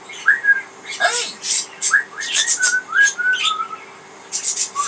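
Pet budgies chirp and whistle in quick, bright bursts and short warbling phrases, loud and close, with brief pauses between calls and no clear talking over them.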